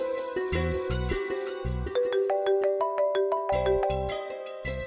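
A phone plays a loud, repeating melodic ringtone of pulsing electronic tones, ringing steadily throughout with no voices.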